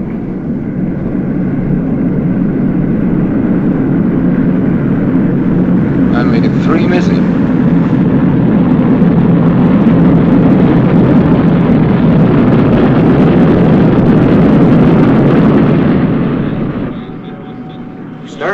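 Aircraft returning from a wartime mission fly over an airfield in a 1945 film, a loud sustained droning roar of piston engines swelling and fading as it passes, with brief talk near the end.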